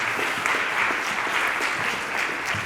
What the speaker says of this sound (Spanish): Un fuerte aplauso para Miguel Aguilera.